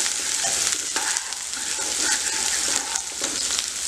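Chopped onions fry with golden-browned ginger and garlic in oil for hotel-style dal tadka over a high flame, a steady close sizzle with occasional stirring scrapes and no voices.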